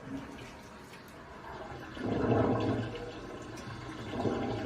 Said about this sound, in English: And then we're going to drain the water.